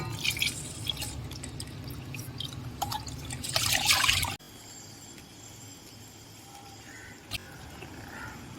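Ration rice is washed in a pot with water, giving a close, busy swishing and trickling for several seconds that then drops to soft, sparse drips.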